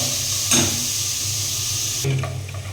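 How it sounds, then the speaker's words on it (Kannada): Onions frying in a pan with salt added, a steady close sizzle with stirring scrapes, one near the start and another near the end, and no talking. "ನೋಡಿ ನೀರುಳ್ಳಿ ಈಗ ಫ್ರೈ ಆಯ್ತು ಆಯ್ತಾ."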